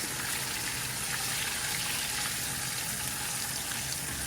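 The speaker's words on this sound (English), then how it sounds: "So let it fry for a few minutes" Ingredients for a Ghanaian seafood okro stew frying in oil, a dense, even sizzle holding steady and fairly loud with no breaks.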